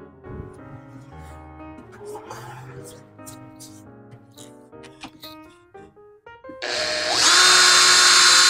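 After a stretch of quieter tonal sounds, a power drill with a combination countersink bit suddenly whirs, loud and steady, boring into wood close up for the final seconds.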